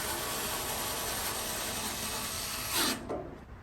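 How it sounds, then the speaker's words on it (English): Power screwdriver driving screws into the mid-range bracket of a Kenmore Elite gas dryer, a close, continuous buzzing whir that ends abruptly with a short rattle. "Now mounting the 2 screws for the mid-range bracket, left side"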